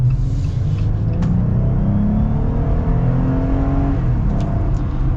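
A 2023 Jeep Gladiator Mojave accelerates with a steady, loud engine rumble and rising drone heard from inside the cab, sustained for about five seconds without any talk.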